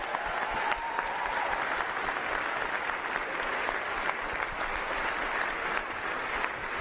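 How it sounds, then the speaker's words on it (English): Sustained applause from a crowd at an Artemis II astronaut event, steady clapping filling the whole stretch without pause, fairly even in loudness. "Please give them a round of applause."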